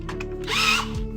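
A power drill whirs briefly while boring out the hole in an action figure joint, a short close rising burst with light clicking before and after.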